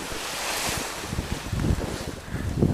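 A gust of wind buffets the microphone at a tandem paragliding launch site during a thermal, a steady roaring rush that swells and surges unevenly with no talking.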